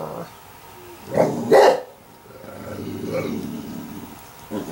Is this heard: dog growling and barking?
yes